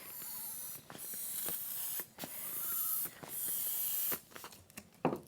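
A small 5-inch latex balloon is puffed up for a party decoration stand in short airy hissing pumps, a steady rhythm of about five quiet bursts close by with no talk.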